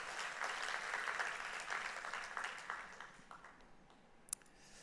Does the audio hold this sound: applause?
yes